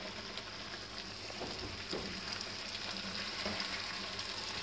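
Blended tomato frying with whole potatoes in a pot for a spicy aloo curry, a steady close sizzle with soft scraping stirs over roughly five seconds.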